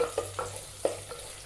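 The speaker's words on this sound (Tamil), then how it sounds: "வெங்காயம் நல்லா வதங்கட்டும்." Small onions fry and are stirred in a pan for a Tamil-style mochai kuzhambu (field bean curry), giving soft sizzling with a few brief stirring scrapes in a quiet kitchen.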